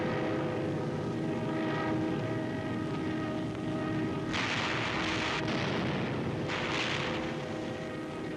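Wartime air bombing and artillery fire over the city of Stalingrad, a dense continuous roar of aircraft engines with bursts of broadband blast noise rising around the middle, loud throughout.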